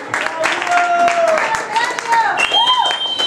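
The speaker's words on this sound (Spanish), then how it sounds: "Fuerte aplauso, Claudio Magno" Audience applause at a live show, a steady crowd clapping with sustained musical tones and a voice layered over the top.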